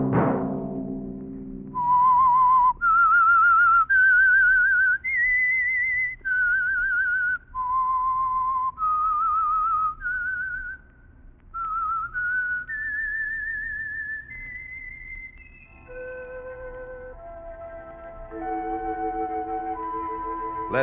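A melodic signature whistle from The Whistler radio program, a clear, lilting tune of sustained notes rising and falling, loud and alone, following a brief opening sound.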